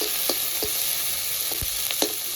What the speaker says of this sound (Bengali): পেঁয়াজ রসুন কাঁচা লঙ্কা ভালো করে একটু ভেজে নেব